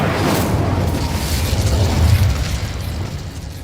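An Incendio fire spell cast in Hogwarts Legacy, a loud sustained fiery whoosh and rumble with a low booming body that swells then slowly fades.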